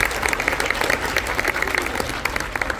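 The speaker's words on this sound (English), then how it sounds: "So let's give them a round of applause for that." A concert audience applauds the Van Buren Freshman Academy Wind Ensemble students, a loud, close, continuous burst of many hands clapping with individual sharp claps standing out.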